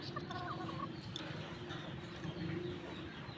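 Laying hens, including an Asil cross, cluck and call softly in a coop amid a low, steady background hum, with a few faint bird vocalizations scattered through.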